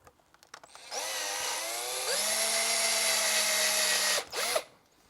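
Power drill boring a larger hole after the pilot hole to fit Touratech handguards on a BMW motorcycle, a steady high whine lasting about three seconds that shifts pitch midway, then a brief spin-down and a short second burst, close and loud.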